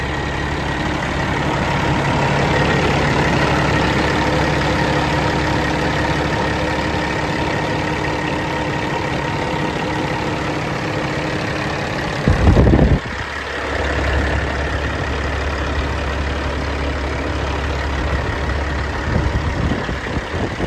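A 2014 Peterbilt 389 glider truck with a Cat engine idles warm, a steady, loud low diesel drone with layered hum that continues for the whole stretch, broken by one brief heavy thump partway through.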